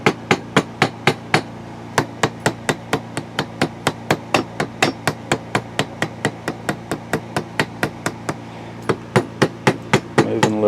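Sharp, loud hammer-like taps strike a Homelite Super 2 chainsaw carburetor in a steady rhythm, about thirty evenly spaced knocks heard up close with no talking.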